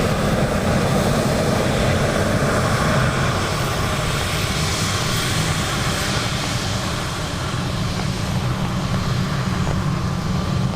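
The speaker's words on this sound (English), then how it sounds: "ATR just touching down" An ATR turboprop airliner touches down at Dublin Airport on a wet day, a loud, steady propeller and engine roar heard from nearby that holds at full strength throughout.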